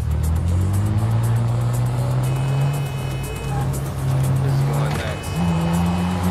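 A car engine revs and shifts up through gears with tire squeal while driving in the open-world video game NTE: Neverness To Everness; the loud, continuous engine drone runs under a person talking.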